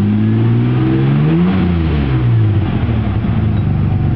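A 1994 Ford Ranger XLT Supercab pickup with a faulty exhaust revs hard and loud up close, the engine pitch rising and then falling and settling back into a steady, rough idle.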